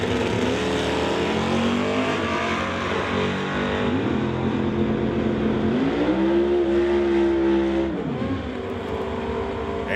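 A 1967 Camaro racing a Malibu on a drag strip, loud sustained engine roar with rising and falling pitch as revs climb and shift, heard close without voices.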